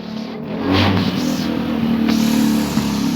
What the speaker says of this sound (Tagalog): Ang ingay naman ng motor na yun